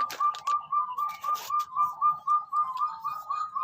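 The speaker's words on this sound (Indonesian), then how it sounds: "di belakang ada suara burung pemirsa, burung ruak-ruak" A ruak-ruak waterhen, a rice-field bird, calls with a steady series of clear whistled notes about three per second, moderately close, over a quiet background with faint clatter.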